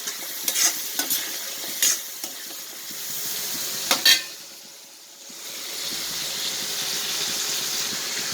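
Prawns and onions roast in coconut oil in a pan. A few sharp clinks and scrapes of stirring come first, a brief lull follows, then a steady sizzle hisses on alone.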